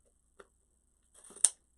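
A few quiet snips of sharp scissors cutting ribbon, a faint click followed by a short cluster of sharp clipping sounds up close.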